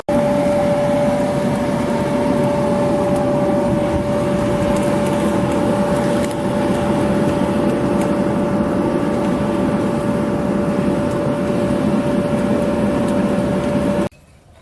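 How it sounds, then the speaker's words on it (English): Blower feeding a backyard furnace melting aluminium, a loud steady roar with a constant whine, running unbroken until it cuts off abruptly at the end. "the blower I'm using is the one you would have seen in previous videos"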